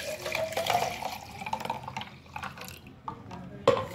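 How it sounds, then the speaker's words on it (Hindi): Strained pani puri water splashing and gurgling as it is poured into a jar with ice cubes, loudest at the start, then trickling more softly with a few close clinks. "अब हम पानी को इस जार में शिफ्ट करेंगे।"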